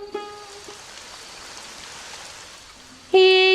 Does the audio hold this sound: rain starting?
yes